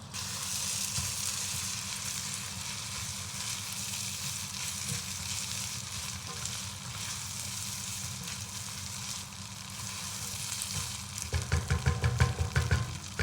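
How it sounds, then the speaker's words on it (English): Steady, continuous sizzling of Nigerian fried rice frying in a pan as its water cooks off, close by, turning into rhythmic scraping stirs toward the end. "We are going to keep frying this till the water is out of the rice"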